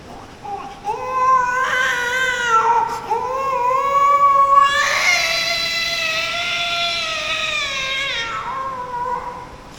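A voice imitates a wailing infant, with drawn-out rising and falling cries that sound almost like a yowling cat, sustained for several seconds.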